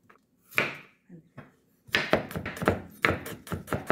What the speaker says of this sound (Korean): 이제 마늘을 좀 다져 볼 건데요